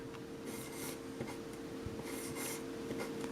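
A graffiti tag word is written quickly by hand, with soft scratchy pen strokes coming in short bursts, close and quiet.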